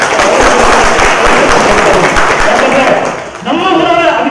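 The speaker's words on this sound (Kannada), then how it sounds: "ಹಂಗಾಗಿ ಅವ್ರ ಜೋರು ಚಪ್ಪಾಳೆ ಮೂಲಕ" A crowd at a public event gives loud applause, dense clapping filling the clip before fading into a voice speaking over it near the end.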